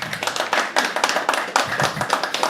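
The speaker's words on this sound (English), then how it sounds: "You can clap." A small crowd at a poetry open mic claps in a brisk, uneven burst of applause lasting a couple of seconds, close and fairly loud.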